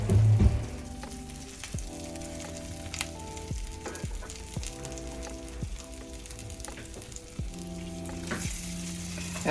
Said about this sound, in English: I'll take your scrapple, put some flour on it, and then we're just going to put it in our skillet.